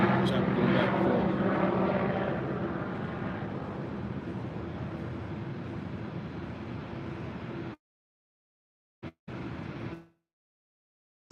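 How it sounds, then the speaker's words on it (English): A helicopter flies back and forth overhead outdoors, a loud steady rotor and engine roar that slowly fades, followed by near silence with brief bursts of talk. "Chopper going back and forth."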